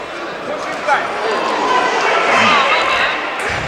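A boxing crowd at a Fight Town Cheltenham bout roars in a steady, loud wash throughout, with a commentator talking over it.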